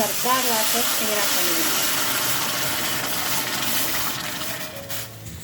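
A pressure cooker cooking sambar releases a loud, steady hiss of escaping steam throughout, with a wavering whistle-like tone early on that fades as the hiss continues.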